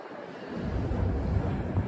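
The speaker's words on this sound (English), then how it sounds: "This is some perspective on just how windy it is tonight." Strong gusty wind buffeting a microphone at night in Midtown Manhattan, a dense low roar that swells slightly and persists for the short stretch without any talking.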